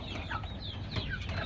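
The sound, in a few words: desi chickens clucking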